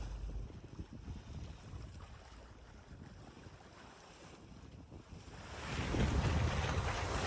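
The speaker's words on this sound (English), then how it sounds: "So a little bit of gentle sailing today, which is rather nice. Only about 9-10 knots of wind." A single-handed sailboat glides in a gentle 9-10 knot breeze, with steady wind rush and water swishing along the hull that swell louder near the end, no voices.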